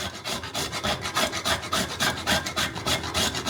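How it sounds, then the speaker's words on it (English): Whole nutmeg is grated on a zester in short, even strokes, each a dry rasping scrape close up, repeated rapidly and steadily without speech. "It does seem to be grating reasonably easily."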